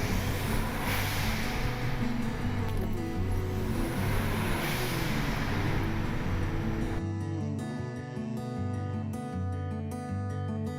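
A turbocharged 8th-generation Honda Civic accelerates with a droning engine note under heavy rushing wind noise. Partway through, the rush cuts off and leaves a cleaner, lower engine hum.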